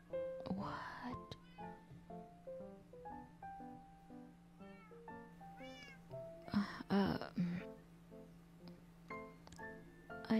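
Cats in the video game Minecraft meow repeatedly, several short rising and falling mews overlapping at irregular intervals, fairly close, with some speech and background tones mixed in.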